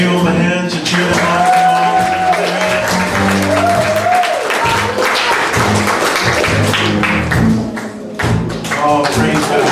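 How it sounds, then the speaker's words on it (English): Applause from a church congregation at a Mother's Day service, cheering on two performers; steady clapping and crowd noise running throughout, mixed with music tones and some voices. "Let's give them a hand to cheer them on."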